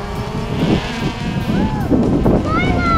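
Small quadcopter drone motors spin up and whir steadily, lifting a child's loose baby tooth tied on fishing line, with excited voices talking over the buzzing hum throughout.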